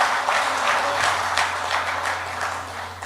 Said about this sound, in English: The players who I would like you to applaud,